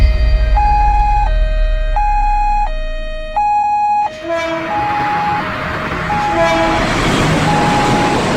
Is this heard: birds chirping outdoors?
no